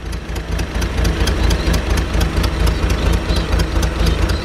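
A Datsun 240Z with a race cam idles low and loud up close, its lumpy, uneven pulsing beat repeating steadily with no voices.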